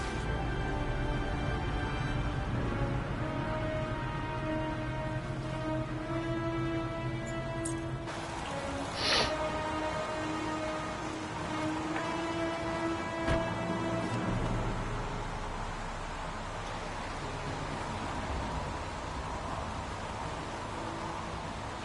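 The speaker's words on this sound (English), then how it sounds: "Goddamn rain." Steady rain hisses throughout a scene in the video game Heavy Rain, with a low sustained musical drone underneath and a few brief thuds. No one speaks.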